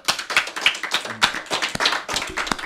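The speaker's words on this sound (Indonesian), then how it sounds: "Kita tepuk tangan dulu lah." A small group clapping hands during an Indonesian talk show, a short run of uneven, fairly quick claps close by, with no speech over them.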